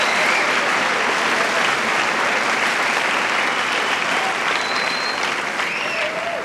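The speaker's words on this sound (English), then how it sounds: "Mr. Castle again applauding the class of 1990." A large graduation audience applauds the class of 1990 at a high school commencement, with dense, steady clapping that holds at full strength throughout and a few whistles cutting through near the end.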